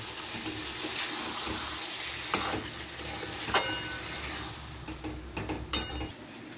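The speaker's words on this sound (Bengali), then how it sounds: "এবার আমি চিকেনটা দিয়ে একটু কষে নেব। চিকেনটা আমি দিয়ে দিলাম।" Chicken pieces frying in oil in a pan for Bihari chicken curry give a steady crackling sizzle, broken by a few sharp spoon clinks and stirring scrapes near the end.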